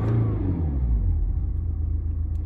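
A stationary turbocharged car's engine rumbles loudly as it is revved, a deep, close throb that rises briefly and then settles into a steady, lower idle-like drone.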